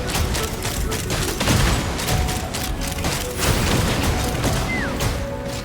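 Rapid in-game gunfire crackles in dense, overlapping bursts, loud and continuous throughout, layered with booming impacts and mechanical clatter.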